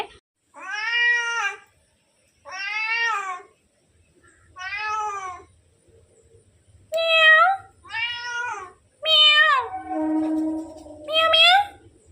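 A cat meows repeatedly in a home kitchen while fish is being cleaned, about seven or eight drawn-out, rising calls coming in close succession and clearly audible near the listener, with short pauses between them.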